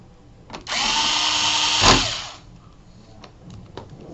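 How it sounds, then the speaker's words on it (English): Power screwdriver driving screws into a keyboard case, a single close whirring burst of about two seconds that rises briefly then cuts off, followed by faint handling clicks. "now you take your screws and screw them in."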